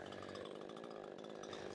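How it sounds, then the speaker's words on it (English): A Proyama 68cc chainsaw cuts through a small pine, a continuous buzzing engine drone with a rough, even texture that runs without a break. It sounds distant and faint, and no one speaks. "the saw didn't have any issues cutting up a small pine"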